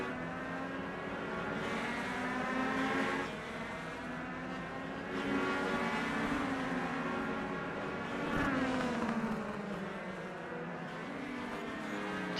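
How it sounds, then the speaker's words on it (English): Small race cars lapping a track at an Atlanta racing event, their buzzing engines rising and fading in repeated waves as they pass, heard from a moderate distance with no talking. "these little cars sound like they're mad hornets coming around these tracks."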